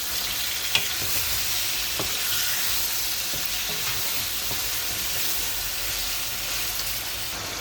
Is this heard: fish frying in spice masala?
yes